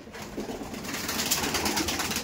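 Pigeons of several breeds, male and female, coo in a loft, a soft steady murmur of overlapping calls filling the space without pause.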